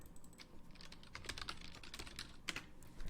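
Quick, light keystrokes on a computer keyboard patter irregularly for a few seconds, close and fairly quiet, with no talking.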